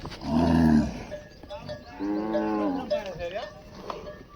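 A bull among cattle grazing in a cotton field lows: one loud, deep moo up close, followed by quieter, higher lowing calls from nearby animals.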